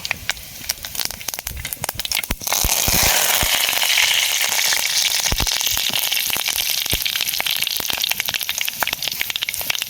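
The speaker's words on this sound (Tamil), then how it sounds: "அப்படியே கடுகை போட்டு விட்டு அதில் கருவேப்பிலை போட்டுப்போம்" Mustard seeds and curry leaves fry in hot oil with a loud, dense crackle and sharp popping spatters, which build into a heavy continuous sizzle after a sudden burst.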